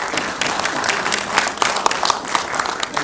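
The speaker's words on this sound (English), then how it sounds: "A big round of applause for this gentleman" A crowd applauds a guest speaker at a Pattaya event, dense close clapping that stays steady and lively for a few seconds.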